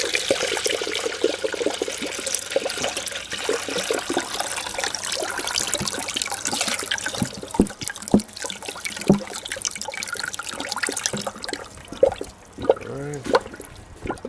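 Coolant pours and trickles into the cooling system of a Ford Mustang engine, a continuous close gurgling splash of liquid that thins and turns intermittent toward the end.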